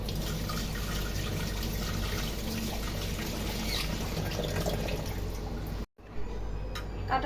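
Tap water runs steadily as a few green cauliflower florets are rinsed at a kitchen sink, a continuous close splashing wash that cuts out abruptly near the end before resuming more faintly.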